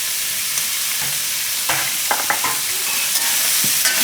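Mixed vegetables with salt sizzle steadily in a hot pan, with a few scraping stirs of a spoon breaking through the continuous frying hiss.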